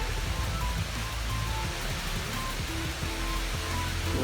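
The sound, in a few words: waterfall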